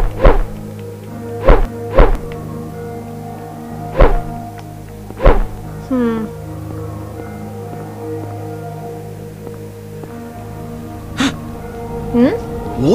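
Repeated heavy thunks of a weapon striking an altar in the video game Silent Hill, spaced blows landing every second or two over a low game drone, with a few fainter hits later on.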